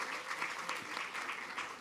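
Steady clapping from a crowd at a public library's grand opening with costumed characters, fairly distant and even, with no one speaking.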